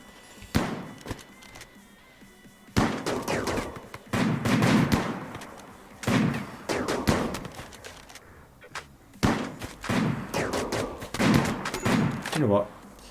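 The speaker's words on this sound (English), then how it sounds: "They've got 3 snipers. No wonder they can shoot me." Repeated sniper rifle shots ring out during a RimWorld firefight, sharp cracks arriving in irregular bursts over several seconds with brief gaps between volleys, mixed with other combat noise.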